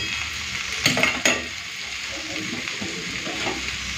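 Fresh spinach torn by hand drops into a pan of frying vegetables for a Bengali palong shak chochchori, bringing a steady close sizzle with two sharp hissing bursts as the leaves land, then a quieter continuous frying.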